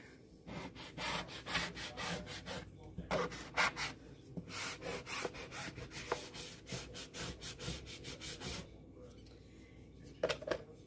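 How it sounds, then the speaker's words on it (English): A squeegee is rubbed along the edge of a printing surface in a series of close, scratchy back-and-forth strokes with short pauses between passes, with no one talking. "Burnishing means like if you take your squeegee and you go along the edge"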